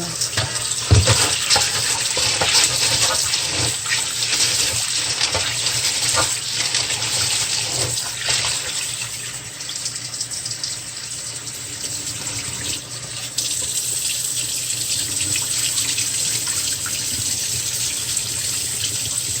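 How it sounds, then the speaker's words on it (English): Tap water runs steadily into a sink while hominy corn is rinsed, a continuous hissing splash with a few clinks and knocks near the start, close and even throughout with no talking. "So you want to rinse it like several times just to get it clear."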